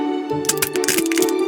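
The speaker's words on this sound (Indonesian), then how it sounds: "Bagian atas telur retak dan cangkangnya jatuh ke tanah." A cartoon egg shell cracks open in a quick burst of sharp snaps and crunchy rattles, loud and close, layered over a steady tonal hum in the background.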